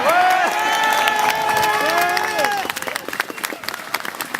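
A harbor crowd at Port-la-Forêt welcomes Vendée Globe skipper Jean Le Cam of Synerciel with loud, dense applause and cheering, mixed with raised voices that thin out toward the end.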